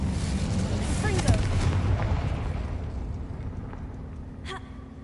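Confringo blasting spell cast in Hogwarts Legacy, a fiery burst near the start followed by a second sharp crack later, over a steady game-ambience rumble with voices present.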